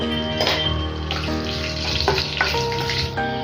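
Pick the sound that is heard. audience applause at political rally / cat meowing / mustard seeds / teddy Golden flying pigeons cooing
mustard seeds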